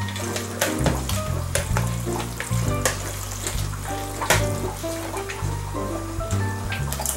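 Ground beef fries in a pan for lasagna while a utensil mashes and scrapes the meat, giving loud sizzling with repeated knocks and clinks in an uneven rhythm.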